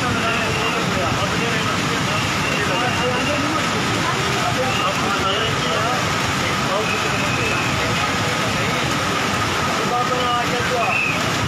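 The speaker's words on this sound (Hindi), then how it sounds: "बारिश भी हो रही है ना मेरी जान, बारिश हो रही है" Heavy monsoon rain pours steadily in Swat, Khyber Pakhtunkhwa, making a dense, continuous roar with someone talking over it throughout.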